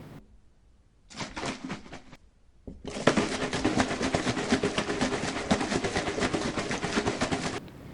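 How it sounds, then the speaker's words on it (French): Water sloshing inside a bottle as it is shaken, a short burst first, a pause, then longer vigorous rhythmic shaking, loud and close. "Si votre réponse est quelqu'un qui secoue une bouteille d'eau, vous avez raison."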